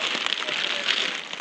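Rain falling steadily during a mountain trek toward Rudranath in Uttarakhand, a dense, even hiss of drops close by with no clear voices over it.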